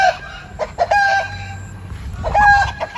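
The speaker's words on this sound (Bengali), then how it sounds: "বাচ্চা বাচ্চা মুরগিগুলো লড়াই লেগে গেছে কেমন" Young chickens scuffle in a village yard, clucking and giving squawky, high-pitched calls in short bursts. The sound is close, with brief pauses between flurries.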